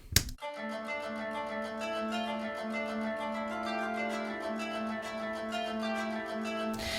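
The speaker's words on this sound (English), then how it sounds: "now I'm also adding the kanun" A kanun, a plucked string instrument, plays alone, a sustained shimmering line of quick picked notes with steady resonance throughout.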